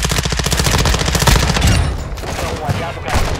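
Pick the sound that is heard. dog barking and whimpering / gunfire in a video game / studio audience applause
gunfire in a video game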